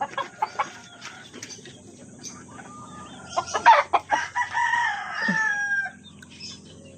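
A Boston roundhead gamefowl rooster crows at close range with clucks from other birds around it, a loud drawn-out call rising in the middle of the stretch among shorter scattered bird sounds.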